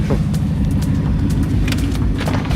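A rebuilt, abandoned supercar fitted with a widebody kit idles loudly nearby with a deep, steady engine rumble and a few sharper revving bursts throughout.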